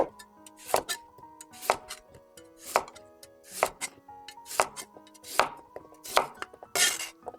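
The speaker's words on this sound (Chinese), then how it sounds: "1根胡萝卜切成滚刀块" A knife chops a carrot into roll-cut chunks on a cutting board, making steady, close, crisp thuds in an even rhythm, about one chop a second, with nothing else heard.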